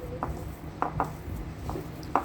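Chicken, onion, green chilli, ginger and garlic filling being mixed in a bowl for chicken rolls, a few soft scattered clinks and scrapes of utensil on dish, quiet and close.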